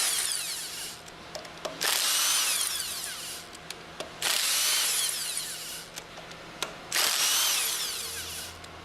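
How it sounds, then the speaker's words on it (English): An impact wrench fitted with a 10mm hex drive runs in three long, loud bursts separated by short pauses, removing retaining bolts on an HF packing stack, close up with light clanks between bursts. "Use the impact wrench with a 10mm hex drive attached to remove the remaining 6"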